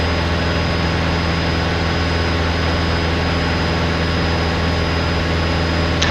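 A light training aircraft engine drones steadily at full power during a climb in a training flight in Canada, a loud, constant, even hum with no talk over it.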